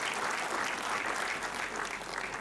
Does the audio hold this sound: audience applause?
yes